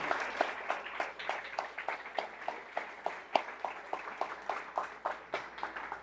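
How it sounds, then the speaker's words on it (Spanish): A church congregation claps in a loose, steady rhythm of distinct claps roughly every quarter second, faint and somewhat distant, with no voices heard. "si le van a aplaudir, aplaudan fuerte."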